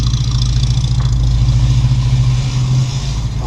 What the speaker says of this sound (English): Oh, that rattling's exhaust.